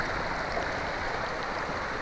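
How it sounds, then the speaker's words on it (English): Small seasonal mountain tributary streams in the Absaroka Beartooth Mountains of Montana, flowing into Pine Creek, heard as a steady, dense rushing of water with no break. "Got a lot of little tributary streams coming in here."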